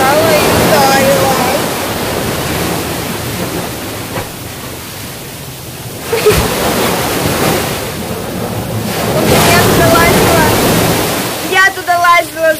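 Strong sea waves crash and wash onto a Portuguese shore in a loud, continuous roar that surges and recedes, with wind buffeting the microphone near the end.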